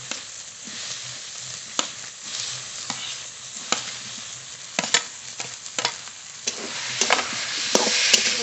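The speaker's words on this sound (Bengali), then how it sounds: "মশলা আলু খুব ভালো করে কষিয়ে নিয়েছি" Fried potatoes stirred into a spice masala in oil, a close steady sizzle broken by frequent irregular scrapes and knocks of a spatula against the pan.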